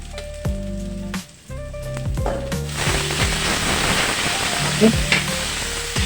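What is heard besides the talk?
boiled banana blossom added to pan, sizzling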